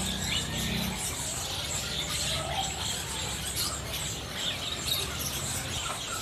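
Bar-winged prinias (Ciblek) kept in stock at a bird shop, their high thin chirps and tweets scattered densely through a busy, steady background of other cage birds and shop noise.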